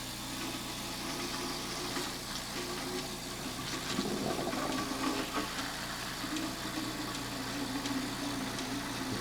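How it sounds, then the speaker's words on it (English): Milking machine sucking up soapy water, a steady mechanical hum and drone with a gurgling, slurping wash of liquid in the middle, moderately quiet and continuous. "suck up some soapy water"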